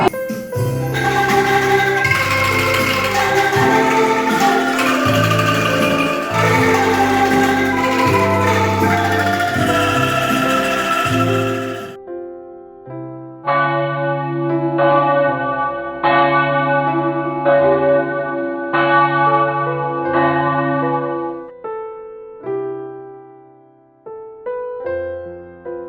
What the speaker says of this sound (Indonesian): suara lonceng mulai terdengar ke seluruh penjuru dunia